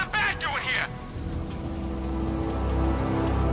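Steady rain hiss in the video game Batman: Arkham Knight, a dense even patter that continues throughout and briefly sits under a short burst of higher game sound at the start.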